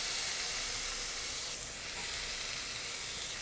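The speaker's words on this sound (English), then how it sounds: "And then we can get sauteing up those onions." Onion and garlic sautéing in oil in a pan, giving a loud, close, continuous hissing sizzle that dips briefly midway and then carries on steadily, with no talk.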